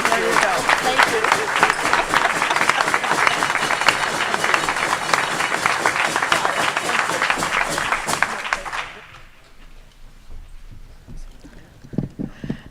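A Rotary Club luncheon audience applauds a member's Paul Harris Fellow honour with dense, steady clapping for about nine seconds, then the applause dies away into quiet room noise.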